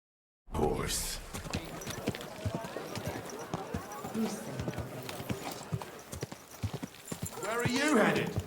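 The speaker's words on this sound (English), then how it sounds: "Horse." Steady horse hooves clip-clopping at a walking pace in the video game Kingdom Come: Deliverance 2, close by, with a person speaking over them and a horse's whinny near the end.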